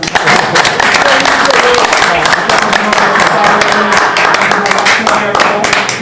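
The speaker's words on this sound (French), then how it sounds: "on va applaudir si vous voulez" Audience applause at an event honouring a Congolese singer, a loud sustained crowd of clapping hands with scattered sharper claps, steady throughout with voices faintly mixed in.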